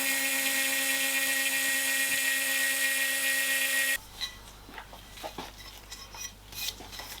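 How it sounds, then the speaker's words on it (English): A 100-year-old milling machine side mills a cut face on an aluminium plate: a steady loud whining grind with strong tonal hum, then an abrupt stop into quieter clinks and rattles of handling metal. "just using a bit of side milling here, I can clean off this cut face"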